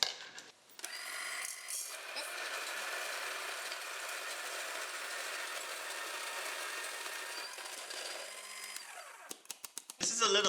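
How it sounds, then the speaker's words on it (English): A coffee grinder whirs steadily for several seconds at moderate loudness, a dense mechanical hum that starts abruptly and cuts off near the end, followed by a few sharp clicks. "always like turn on the grinder before putting the beans in"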